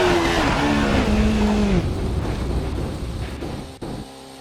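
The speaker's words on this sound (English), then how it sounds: "aka the Renault F1 car from 2005. V10 engine, no slicks, super lightweight" A 2005 Renault R25 Formula 1 car with a V10 engine, in a racing video game, whines loudly with rising and falling pitch as it shifts through gears, then fades to a quieter hum before a short thump near the end.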